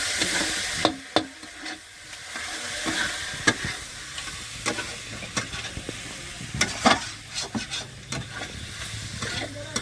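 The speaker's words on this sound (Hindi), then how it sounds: "और इसमें अच्छी तरह से भून रहे हैं।" Onions fry in a pan with sizzling and repeated scraping stirs of a spoon, close and continuous, with uneven clacks from the stirring while the onions are browned for a snail curry.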